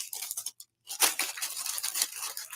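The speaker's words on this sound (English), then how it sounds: "Sorry for the noise of the plastic" Plastic crinkles and rustles in bursts close by, with a brief pause before louder, sustained crackling handling.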